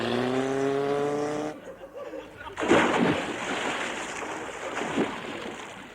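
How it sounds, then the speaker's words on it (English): A comedy radio show's sound effect of a boat at sea: after a brief droning tone, loud close splashes and surging waves wash in, with a heavy surge midway and another near the end. "From there on, we took a boat."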